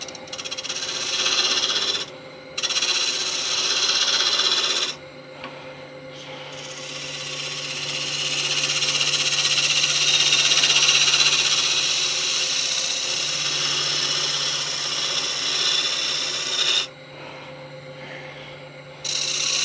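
A gouge squares off the end of a wooden box blank spinning on a woodturning lathe, producing a loud, continuous rushing cut over a steady motor hum, broken by a few brief pauses.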